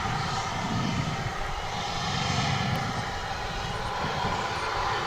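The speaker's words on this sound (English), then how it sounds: "Here comes our Contour flight." Contour Airlines plane at DFW International Airport, a steady loud roar of jet engines sustained throughout, broadband and even, heard from fairly close with no talking.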